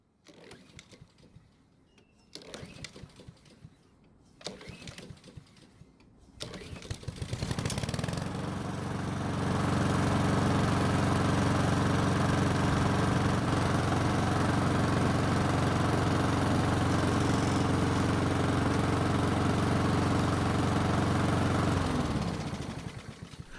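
A Honda gas lawn mower engine starts unprimed after a few quiet moments and settles into a steady, loud idle, droning without pause until it cuts off near the end.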